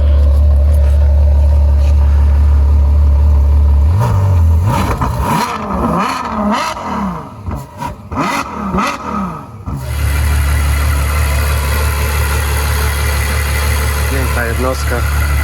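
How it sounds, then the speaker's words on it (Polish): A Ferrari FF V12 engine idles with a deep steady rumble, then is blipped through a burst of quick revs before dropping back to a smooth idle. "Czas na dźwięk silnika, który jest naprawdę piękny."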